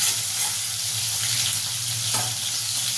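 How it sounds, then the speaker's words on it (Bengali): Soft bhetki fish fillets frying in oil in a pan, a dense, steady crackling sizzle heard close up with faint occasional pops, no voices. "এইভাবে মাছগুলো আমি ভেজে নেব।"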